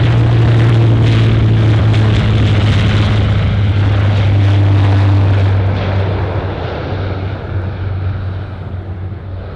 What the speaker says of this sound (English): We have that Saab 2000 now taking off.